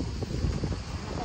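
Wind gusts buffet the microphone outdoors at a wedding, a low rumbling roar with uneven surges over the short stretch.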